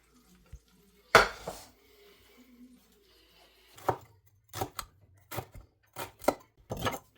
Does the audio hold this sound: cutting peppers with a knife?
yes